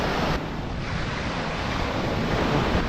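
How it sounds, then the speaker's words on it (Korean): Rough ocean waves surging onto the beach of a small island, a steady loud wash of surf mixed with wind noise on the microphone. "파도 소리 들리나요?"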